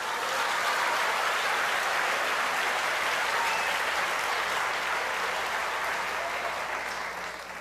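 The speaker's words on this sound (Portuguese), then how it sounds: "Pode aplaudir o Senhor" Congregation applause in a Portuguese-language church service, sustained, loud, even clapping from a large crowd that tapers slightly at the very end.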